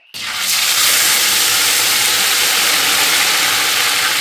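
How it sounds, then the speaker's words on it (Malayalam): Fenugreek seeds hit hot oil in a pan and burst into a loud, sudden sizzle that settles into a dense, steady crackling hiss. "എണ്ണ ചൂടായിട്ടുണ്ട് ഇതിനകത്തേക്ക് നമ്മൾ ഫസ്റ്റ് ഉലുവയാണ് ഇടുന്നത് കുറച്ച് ഉലുവ ഓക്കെ അവനങ്ങോട്ട് പൊട്ടട്ടെ"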